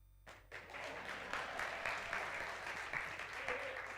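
A church audience claps steadily throughout a service, the broad, dense applause running loud and continuous with no talk on top.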